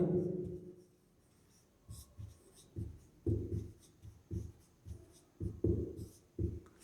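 Numbers are handwritten, likely with pen on paper, in short scratchy strokes that come in bursts with pauses between them, close and fairly quiet.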